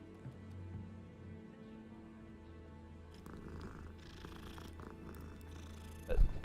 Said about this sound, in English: I'm petting the fucking cat right now